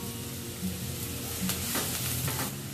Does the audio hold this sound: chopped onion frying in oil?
yes